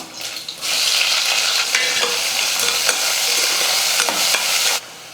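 Onions with garlic and curry leaves sauté in a pan for tomato rice made with broken rice, a steady loud sizzle and frying hiss broken by sharp clinks and scrapes of a spoon stirring, starting abruptly and cutting off near the end.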